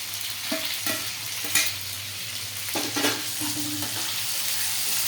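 Potato, ginger paste and coriander frying in a pan for sago upma, a steady close sizzle with scraping and stirring of a spoon against the pan.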